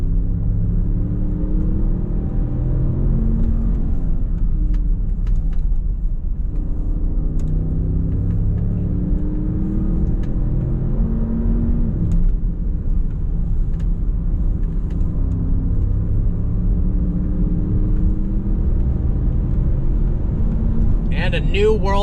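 A 2022 Range Rover is driven around a hill climb track, giving a steady, heavy low engine and road rumble heard from inside the cabin, with slight swells in pitch as it accelerates.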